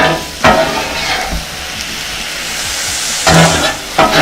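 Cheesesteak fillings fry on a hot griddle with a steady sizzle, broken by a few louder scraping bursts of a spatula stirring them, close and without talk.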